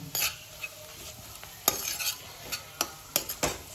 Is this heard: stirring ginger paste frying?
yes